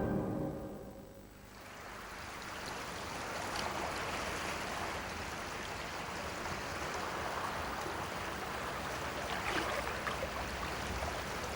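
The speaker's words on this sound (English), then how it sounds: "even complete beginners can enjoy the exhilaration of shooting the rapids" River rapids rush in a steady, roaring whitewater surge while boaters ride them, a broad continuous wash of churning water that holds fairly loud throughout without speech.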